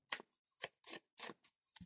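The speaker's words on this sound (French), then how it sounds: "Je vais brasser et tirer 7 cartes." Oracle cards are shuffled by hand in a quiet room, with five or six short, soft riffling bursts separated by brief pauses.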